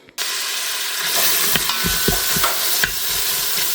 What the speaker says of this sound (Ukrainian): а моркву натираю на грубій терці і відправляю смажитись